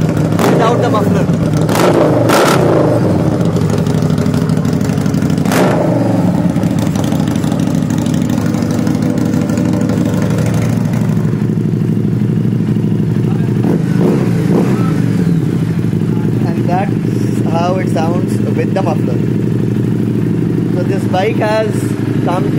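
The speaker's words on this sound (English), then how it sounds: "that's how the Harley-Davidson Street 750 sounds without the muffler" A loud, raw Harley-Davidson Street 750 engine with no muffler rumbles steadily, with a few sharp throttle blips early on and a voice speaking over the drone later.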